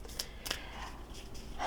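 A thick-carded, large-format Sacred Earth oracle deck is shuffled by hand, giving a few quiet, crisp riffling snaps and soft card slides close by in a calm room.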